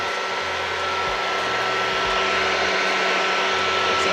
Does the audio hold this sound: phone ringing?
no